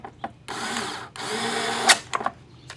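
A power tool whirs in two sustained bursts, tightening a bolt on the drive belt cover of a Craftsman walk-behind mower, with brief clicks and taps between runs.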